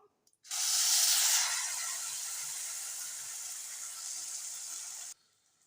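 Curry gravy for butter chicken poured into hot oil spiced with cinnamon, cardamom and cloves, giving a sudden loud sizzling hiss that holds steady for about four and a half seconds, then cuts off abruptly.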